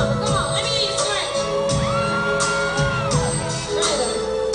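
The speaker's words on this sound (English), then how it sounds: "Come on, let me hear you scream." A studio crowd of women scream and whoop together at a 1995 interview with Aaliyah, shrill overlapping cries rising in bursts over a steady roar of voices.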